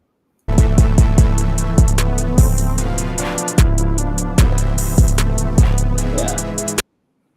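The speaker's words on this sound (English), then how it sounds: "I think it's a piano" Piano plays a melody in a series of distinct struck notes and chords at a steady pace, clear and close, with no voices over it.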